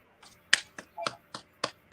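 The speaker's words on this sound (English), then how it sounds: "So got to get them hand claps for that." Seven or so sharp hand claps or snaps, irregularly spaced and moderately close, in a talk show studio setting, standing alone without talk.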